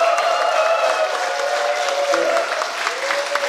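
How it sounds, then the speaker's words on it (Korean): Applause from the audience at a Rotary Foundation event in Korea, a steady, fairly loud crowd of clapping that holds for a few seconds under a continuous tonal hum. "박수 한번"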